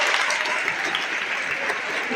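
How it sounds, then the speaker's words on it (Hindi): Schoolchildren at a girls' school in Sikandrabad clapping loudly together, a dense continuous burst of applause filling the room for a couple of seconds. "जोरदार तालियां"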